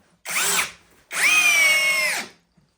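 An Eltos DA-16 BL brushless cordless screwdriver drives a screw in two close, loud bursts. A short whirr is followed by a longer, strained run of about a second, each ending abruptly.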